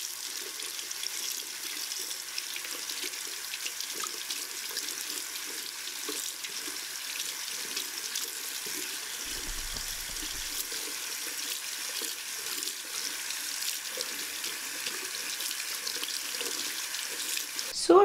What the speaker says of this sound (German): den Rest werde ich jetzt unter dem Wasserhahn vorsichtig abwaschen